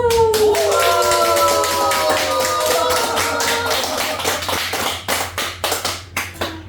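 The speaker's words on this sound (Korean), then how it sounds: "환호성을 한번 올려보겠습니다" A crowd at a Buddhist dharma talk lets out a rising group shout of cheering with voices gliding upward, joined by brisk clapping that continues and breaks into separate, spaced claps as the cheer dies away.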